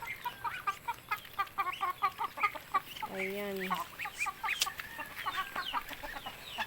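Chickens cluck repeatedly in short bursts throughout, with a brief longer call partway through and a person speaking briefly nearby.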